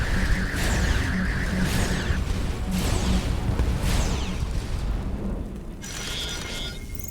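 Missiles bursting in the space game Starcom: Unknown Space, a series of booming blasts with whooshing tails, several rumbling impacts in quick succession, loud and without talk.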